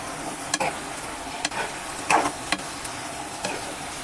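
Boiled cluster beans (guar) frying in an oil-coated pan, stirred with a spatula: steady sizzle underneath with several sharp scraping clicks spaced through the stretch, no talking.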